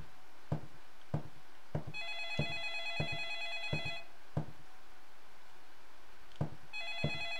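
An old-style telephone bell in the video game Gone in November rings in two bursts of rapid metallic trilling. Sharp, evenly spaced clicks like footsteps sound close by, and the setting is otherwise quiet.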